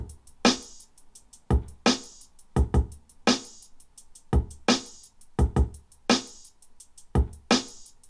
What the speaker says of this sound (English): The drums by themselves, they sounded like this.